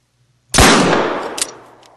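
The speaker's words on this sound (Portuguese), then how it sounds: "Vamos ver se a gente consegue um bom disparo daqui." A single rifle shot fired at a lynx in the hunting video game theHunter: after silence, one sharp, loud crack that booms and decays over a second and a half, with a faint echo-like click afterward.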